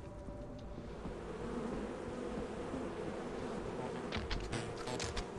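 Bees buzzing in the video game Lethal Company, a steady droning insect hum that continues throughout and swells slightly near the end, with no talk over it.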